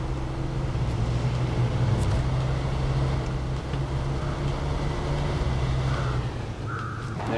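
Truck engine in the off-road driving game SnowRunner, a steady low rumbling drone that holds throughout at moderate loudness, with faint higher clunks near the end and no talk.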